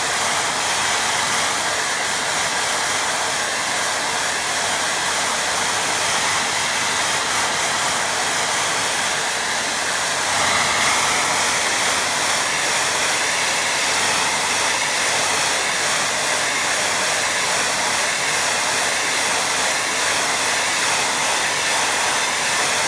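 A hair dryer blows continuously over a watercolour beach painting, a loud, steady broadband roar that stays even for over twenty seconds with no talk.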